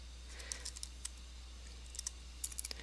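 Keys tapped on a computer keyboard while entering a domain name, a few quiet scattered keystrokes in small bursts over a low steady hum, with no voices.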